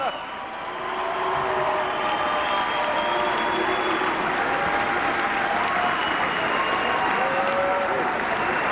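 A large crowd at a 1999 NCAA Division II wrestling championship applauds steadily for several seconds, the clapping dense and sustained, with faint cheers mixed in.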